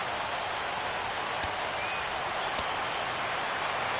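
A baseball stadium crowd in a PS4 game sends up a dense, continuous roar of cheering. The noise holds steady throughout, with a couple of faint sharp knocks under it.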